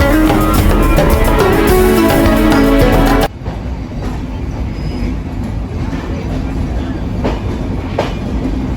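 The Benapole Express, a passenger train bound for Dhaka, pulls out of Jessore Junction with a loud, dense rumble and rattle that drops abruptly partway through to a steadier, quieter rolling hum with occasional clicks.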